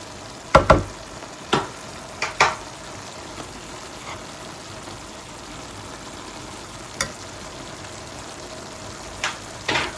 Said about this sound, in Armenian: որպեսզի միսը բացի տապակվելը նաև եփվի